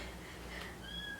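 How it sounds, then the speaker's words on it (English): A faint, thin meow rises near the end over a quiet room hum, short and soft as if from a small cat some distance away. "That sounds like a kitten."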